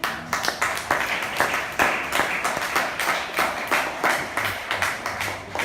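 A church congregation clapping together in a steady, rhythmic beat, the claps fairly quiet and evenly spaced, with no talking over them.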